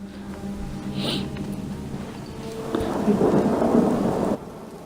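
Rain falling with rumbling thunder in the video game Skyrim, a steady wash of rainfall that swells louder partway through before cutting off near the end, with no talk over it.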